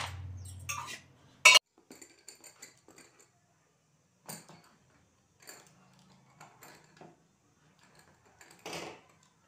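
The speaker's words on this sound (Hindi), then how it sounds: "अब मैं बस बर्तन साफ करूंगी पहले।" Dishes and utensils being washed at home, with sparse clinks and clatters of metal pots and cutlery scattered through a quiet stretch, one sharp bang near the start.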